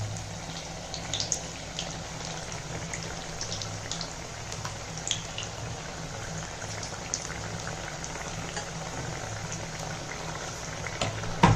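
Potato bajji frying in hot oil, a continuous soft bubbling sizzle at moderate distance, steady and even with only faint clicks, no voices.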